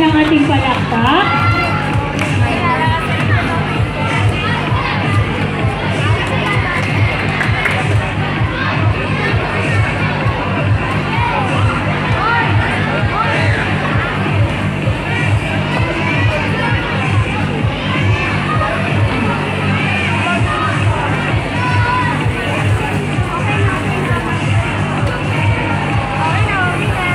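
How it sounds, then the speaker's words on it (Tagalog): A school pageant audience makes continuous crowd noise with clapping, cheering and children's voices mixed into a dense, loud babble that holds steady throughout. "medyo papahina na naman ang ating palakpak"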